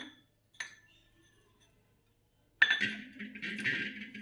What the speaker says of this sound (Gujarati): હવે આપણે એક મિક્સિંગ જારમાં આ શેકેલું જીરું અને મેથી એડ કરશું